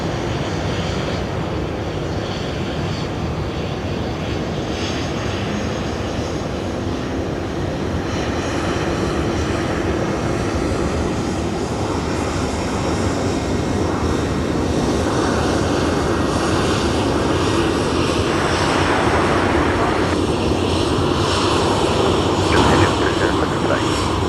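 An Air New Zealand Airbus A320neo jet roars past at Brisbane Airport at night, its engine noise loud and sustained and swelling slightly toward the end, with people talking over it.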